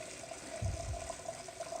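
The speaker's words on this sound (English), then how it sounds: "We're going to turn the stove off and pour the water out, so we'll just use a strainer in the sink." Hot water is poured from a cooking pot through a strainer into a kitchen sink, a soft continuous splash with a brief fuller gush partway through.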